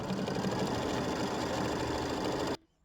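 A sewing machine stitches little quilting loops on a mini quilt, running with a steady rapid mechanical hum and patter that stops abruptly near the end, with no talk.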